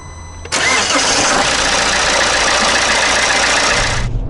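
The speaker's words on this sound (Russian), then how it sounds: "Двигатель мы запустили." A Fiat Doblo diesel engine cranks and fires up abruptly, then settles into a loud, steady clattering idle close by before cutting off near the end.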